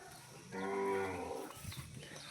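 A cow moos once, a loud drawn-out low call up close, while the herd feeds on fodder; quieter rustling follows the call.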